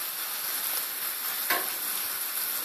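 Ingredients for pasta carbonara fry in a pan with a steady, close sizzle that stays even throughout, broken by a brief scrape of stirring partway through.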